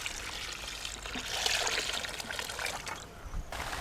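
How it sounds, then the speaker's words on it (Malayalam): Water poured steadily into a pot of beef bone soup with Kashmiri chilli powder and crushed coriander, a continuous splashing trickle that swells in the middle and tapers off near the end. "ഇനി വെള്ളം ഒഴിക്കാം."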